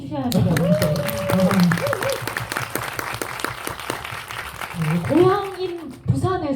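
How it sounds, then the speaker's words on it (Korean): Audience applause at a Busan film festival community event, a steady wash of clapping from a crowd, with voices and the high call of a child rising over it. "여러분들이 박수 많이 주셔야 돼요."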